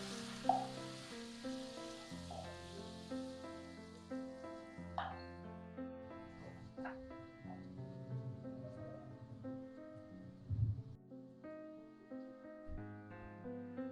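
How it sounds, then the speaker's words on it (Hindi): Lamb fries in a karahi with garlic, ginger and green chilies, giving a steady sizzle with occasional stirring under continuous background music. "हरी मिर्ची डाल देंगे, मिक्स करेंगे और गोश्त के साथ भूनेंगे 1 से 2 मिनट के लिए।"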